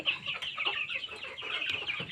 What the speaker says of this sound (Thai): เดี๋ยวให้ทุกคนดูให้ข้าวโพดไก่กินก่อนก็ได้